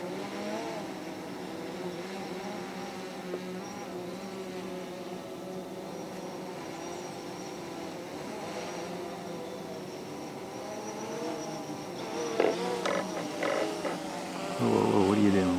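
A camera drone descends to land after a scenic flight over Vancouver Island, its rotors giving a steady, close buzzing whine that holds throughout and grows rougher and louder with gusty bursts near the end.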